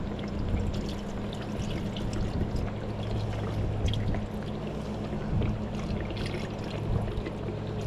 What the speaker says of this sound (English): it says fill this with 12 to 24 ounces of water